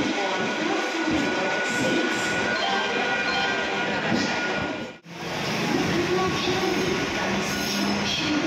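The Bandra–Madgaon Express pulls into Panvel station, its rail cars rumbling and wheels squealing in a loud, continuous stream, with a brief dropout in the middle.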